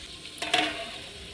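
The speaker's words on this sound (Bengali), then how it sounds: "যাই হোক মাংস কষতে থাকুক এখন ঢাকনা দিয়ে ঢেকে দিচ্ছি" Meat being fried and stirred in a pot, a short burst of sizzling with a brief scrape of stirring in the middle, close and fairly quiet with no voices.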